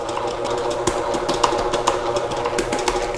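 A stand dough mixer runs at speed 2, kneading T65-flour baguette dough with a steady mechanical whir and a rapid rhythmic knocking, loud and close, with no talking.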